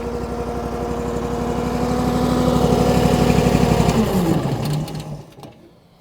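A Wolfe Ridge 35 SHO box wedge log splitter's small engine idles with a steady, close chugging drone, then slows and winds down toward the end.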